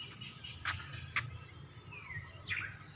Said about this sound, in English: you can hear the birds and insects chirping